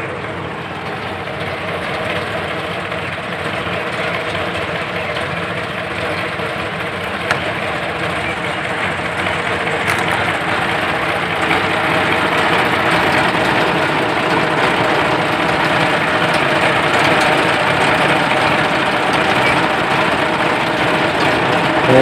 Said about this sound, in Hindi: भाई जरा ट्रैक्टर लगे मशीन चलती है भाई,